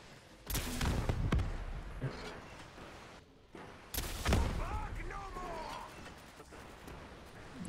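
Gunfire rings out in Black Ops 3 custom Zombies, with two loud weapon blasts and sharp shots amid game effects while players talk.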